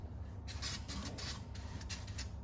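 Several short hissing bursts of aerosol spray on a 1974 Chevy C20 pickup left sitting 25 years in the desert, close and fairly loud, repeated in quick succession over a low steady hum.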